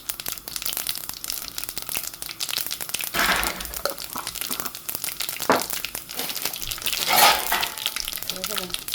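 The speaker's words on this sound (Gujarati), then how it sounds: "રાઈને ફૂટવા દેવાનું." Steady crackling sizzle of mustard and cumin seeds frying in hot oil, with sharper popping bursts scattered throughout and a soft murmur of a voice in the background.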